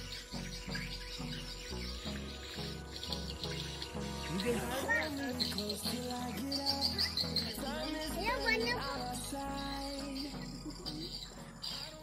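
Swiftlets call inside a swiftlet bird house, a busy, fairly close chorus of chirps and twitters with a person talking over them.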